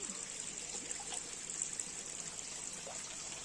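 Water from a running pump motor falls and splashes steadily into a garden plot, a soft continuous trickle and patter at low volume with a faint high hiss above it.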